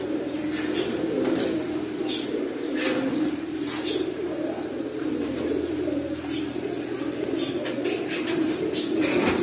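Pigeons, including red-marked fancy breeds offered for sale, coo steadily in a low, continuous murmur throughout, with occasional sharper bird calls and faint background voices.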